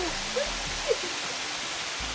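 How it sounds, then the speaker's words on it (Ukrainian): A waterfall on a wet hiking trail in Madeira gives a steady, dense rush of falling water that fills the clip, close and loud, with a few faint sounds on top. "Подивіться, який за нами шикарніший водоспад."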